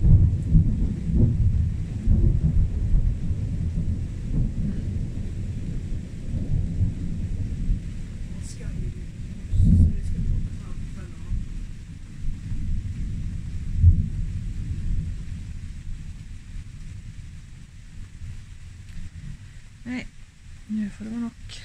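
Thunderstorm with deep rumbling thunder rolling through almost continuously over steady rain, loud at first and slowly easing, with a few faint voices near the end.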